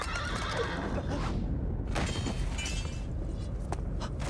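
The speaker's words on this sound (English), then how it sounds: "Oh, this is why we have the horse." A horse neighs and whinnies loudly and close in Shadow of the Colossus, with hoof clip-clop and game ambience underneath, no talking.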